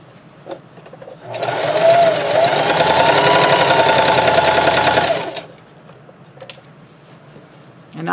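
A sewing machine runs in one continuous burst of about four seconds while stitching a scrub cap, a steady, close whirring hum with faint handling clicks before and after.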